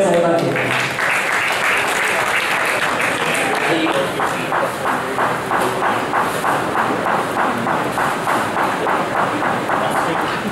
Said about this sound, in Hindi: एक बार जोरदार तालियां मेयर साहिबा की।